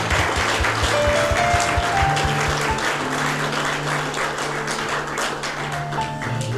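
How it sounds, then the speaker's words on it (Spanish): A church congregation at a family Sunday service applauds with steady, sustained clapping over a sustained musical tone and a low rhythmic thumping. "Dele un aplauso al Señor, porque el Señor lo merece"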